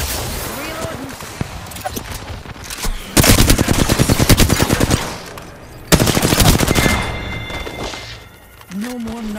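Loud machine gun fire in a squad-based video game, two long rapid bursts of close rattling shots, with other shots and game sounds around them and voices talking.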